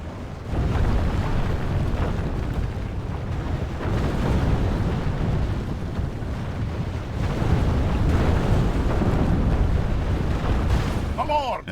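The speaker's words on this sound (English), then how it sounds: "We have breached our enemy's walls." Castle walls breached by catapults in the video game Third Age: Total War, a sustained rumbling roar of battle and crashing masonry that stays loud and heavy throughout, with a voice talking over it.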